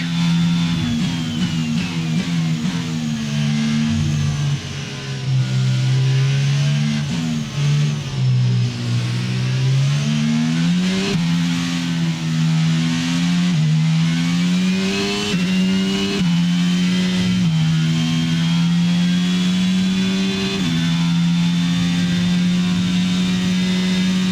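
F1 car engine in F1 22 at Circuit Paul Ricard, French Grand Prix, screaming loud and close as it climbs through gears with repeated rising pitch sweeps and brief shift dips, steady throughout with no talk.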